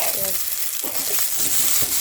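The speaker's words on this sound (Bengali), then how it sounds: "পেঁয়াজগুলোকে সুন্দরভাবে ভেজে নেব।" Onions with chilli fry in a pan, giving a bright steady sizzle up close with a few soft clicks and stirring scrapes, and a brief murmur of voice.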